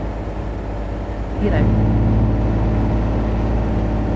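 A truck engine at 55 in 9th gear revs high, a steady drone that rises in pitch partway through and then holds a strained whine, with someone talking over it.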